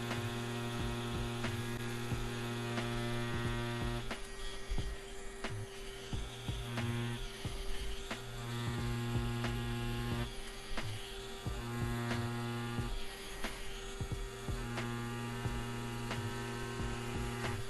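A tattoo machine fitted with a Quelle cartridge runs with a steady electric buzz and hum, close and continuous throughout, with small shifts in pitch and intensity as the artist pulls thick, long lines with plenty of ink in the tube.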